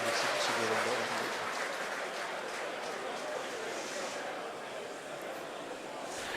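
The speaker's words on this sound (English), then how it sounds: "You may have heard the SpaceX team cheering in the background" Crowd of a SpaceX team cheering and applauding in a mission control room during a Falcon 9 first-stage landing attempt on the CRS-16 launch; a steady, dense wash of distant clapping and voices throughout.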